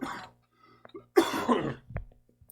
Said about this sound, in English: Still fighting a cough